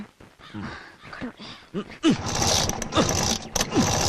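Motorcycle being kick-started again and again and failing to catch, with repeated mechanical clunks and rattles of the kick lever and engine at close range, mixed with voices talking.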